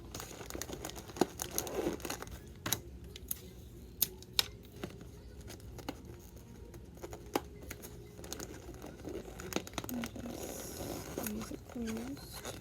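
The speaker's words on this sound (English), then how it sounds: "I usually just trim off this little piece right here." Scissors trimming the corner of a paper chip bag, with scattered crisp snips, clicks and crinkling of the bag under quiet speech.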